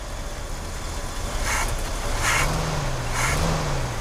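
A 1969 Cadillac Fleetwood engine idling with a low steady rumble, then revved with a couple of rising and falling swells as the gas is tapped, heard close with some wind or hiss over it.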